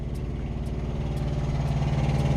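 Generator engine running steadily, heard from the exhaust side at close range: a continuous low droning hum with a faint regular periodic tick, alone without voices.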